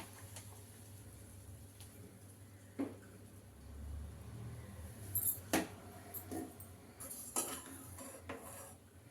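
Boiled gooseberries are scooped from a pot into a mixer jar, giving scattered light clinks and scrapes of a spoon against metal, close and fairly quiet with short gaps between.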